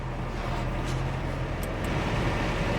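A newly fitted vehicle blower motor fan spins up, giving a steady, even whooshing whir at moderate volume with no voices over it.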